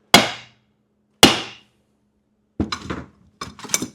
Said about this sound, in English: just get a big hammer, and we're just going to shock the threads a little bit.